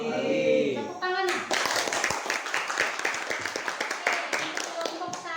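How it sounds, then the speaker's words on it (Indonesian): Applause from a class of students in a school classroom bursts out after a voice speaks, a dense crowd of close hand claps that continues steadily to the end. "Tepuk tangan."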